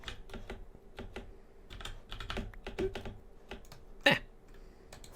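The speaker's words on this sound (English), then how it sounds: "mining ice is very, very quick and easy, and the sound's quite satisfying" Blocks of ice broken in a Minecraft game, a quick run of sharp, clicky breaking ticks in steady succession, with a louder crack near the end.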